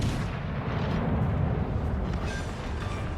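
Naval gunfire from warship guns in the World of Warships: Legends video game, a dense rolling rumble of heavy booms layered over one another, loud and continuous without any talk.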